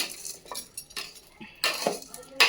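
A spoon stirs a thick mixture simmering in a pot over a very low flame, giving a few scraping, clinking strokes against the pot that rise and fall with quieter gaps between them.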